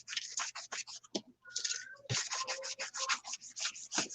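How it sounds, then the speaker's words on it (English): A sanding block scrapes across a vinyl LP record in quick, rhythmic rubbing strokes, close and fairly quiet, with a brief pause partway through. "somebody would take a sanding block and scratch it all up"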